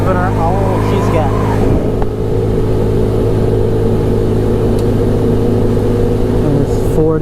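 An ATV engine runs at full throttle during a top speed test, a loud continuous drone with rising pitch early on, heard close up while someone talks over it.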